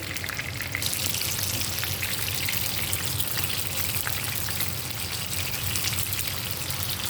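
Boneless spicy chicken muthi kebabs frying in oil over a low-medium flame, a soft, steady crackling sizzle with fine popping, continuous and even throughout, with no talking.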